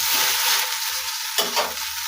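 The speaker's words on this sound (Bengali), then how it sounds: "ঢেঁড়সটা ভাজা হয়নি, ঢেঁড়সটা এদিকে ভাজা হোক" Okra fries in hot oil in a pan, a bright continuous sizzle with a brief flare of louder crackling partway through, no talking.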